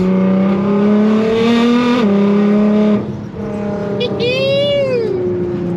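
A Nissan GTR pulls hard under full throttle, its engine note climbing loudly, breaking briefly at a gear shift and climbing again before lifting off, with a short whining rise near the end.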